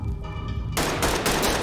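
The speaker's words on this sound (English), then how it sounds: "Someone's still shooting." Rapid bursts of gunfire in the tactical shooter Ready or Not, a sharp fusillade of shots cracking in quick succession just after a quieter lull.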